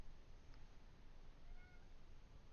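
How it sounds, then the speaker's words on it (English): A resident house cat indoors gives a faint, thin meow over a soft background hiss, brief and distant-sounding with no talking. "One of the 3 resident cats decided to come over and say hello."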